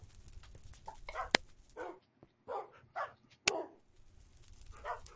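Several puppies bark, yip and whimper in short, scattered bursts, fairly faint and close by, with a couple of sharper yelps standing out and no talking.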